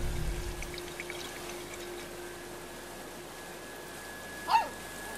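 A helitanker draws up water over a wildfire zone in the video game Life is Strange 2, a low rushing pour under a faint steady hum, briefly broken by a single short chirp near the end.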